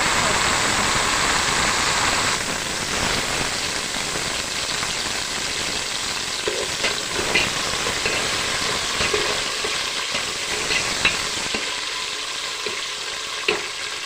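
Tomatoes frying in a pan for Nellore-style fish curry give a steady, fairly loud sizzle with occasional stirring scrapes, and the hiss thins out toward the end.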